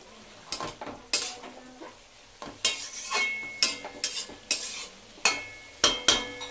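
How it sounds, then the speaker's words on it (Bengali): Prawns fry with grated coconut and ridge gourd as a spatula scrapes and knocks against the pan in uneven bursts over a soft sizzle, close up and with no voices. "এবার চিংড়ি মাছটা দিয়ে দেবো, দিয়ে আবার এটাকে ভাজতে থাকবো।"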